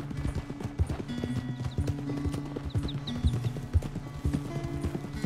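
Hooves clip-clopping at a brisk, uneven pace in the Red Dead Redemption 2 video game, with riding creaks and jingling tack, loud and close, with no talking.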